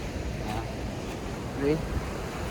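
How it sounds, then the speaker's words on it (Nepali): A swollen, muddy river after heavy rain rushes with a steady broadband roar, and a voice briefly sounds faintly over the water. "यहाँ देख्न सक्नुहुन्छ खोला, यत्रो खोला भएको रहेछ ठुलो।"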